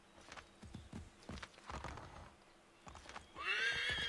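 A horse in Assassin's Creed 3 snorts and stamps with scattered hoof clops before letting out a loud, close whinny that rises and falls at the end; no talk over it.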